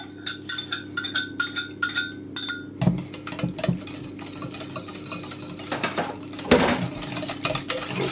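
Double cream being whisked in a bowl, with quick rhythmic metallic clinks of the whisk against the sides, steady and close, and a few heavier knocks near the end.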